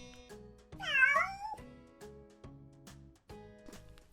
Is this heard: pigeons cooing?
no